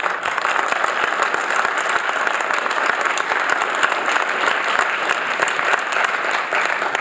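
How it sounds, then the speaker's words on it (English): An audience at a community heroin and opioid awareness forum breaks into sustained applause, dense and loud, keeping an even level from start to finish with no voices above it. "how about a round of applause for this?"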